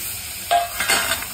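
Raw mutton with a spoonful of turmeric is stirred in a pot, giving a soft, close sizzle with two brief scraping swishes of the spoon against the pot, quiet and alone.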